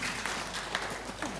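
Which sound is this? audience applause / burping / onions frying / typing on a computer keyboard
audience applause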